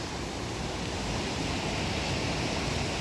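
The flooded Teesta river near Rangpo rushes past in a dense, unbroken roar of churning water, steady and loud with no voices.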